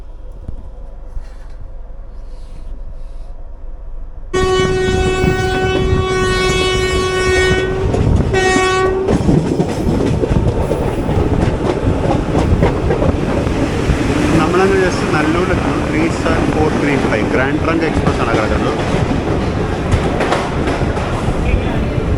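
The Sabari Express pulls out of a station, its horn sounding in a long tonal blast before a steady loud rumble and clatter of wheels on rails takes over and continues, heard from aboard the train.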